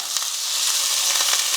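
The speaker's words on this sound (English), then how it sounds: "And then I'm going to throw in my beans and my corn. Just get that frying nicely." Black beans and corn frying in a hot pan, a steady close sizzle with faint crackles and a few soft stirring knocks, no talking.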